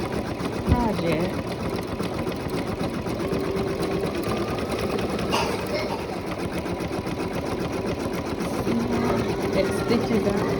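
An embroidery machine stitches out a unicorn design in a continuous, rapid, buzzing run that stays fairly loud throughout, with voices talking over it.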